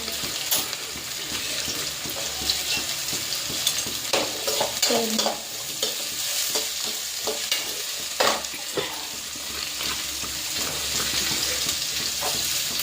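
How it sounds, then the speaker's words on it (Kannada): Onions fry in a pan for rajma curry, a continuous sizzle broken by repeated spoon scrapes and stirring clatter, with a few louder knocks partway through and no voices. "ಸೊ ಈಗ ಈರುಳ್ಳಿ ಹಾಕ್ತಿದ್ದೀವಿ."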